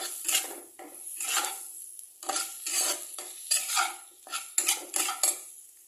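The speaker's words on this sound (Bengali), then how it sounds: "এটাকে একটু ভালো করে এই মশলার সাথে একসাথে সব কিছু মিলে একটু ভালো করে নাড়বো" Small potatoes with spices stirred in a pan, with repeated close scraping and clattering strokes of a spoon against metal in an uneven rhythm and brief pauses between bursts.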